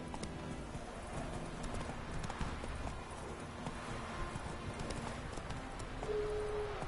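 A horse gallops with a steady, continuous run of hoofbeats that stays fairly close and evenly loud from start to finish.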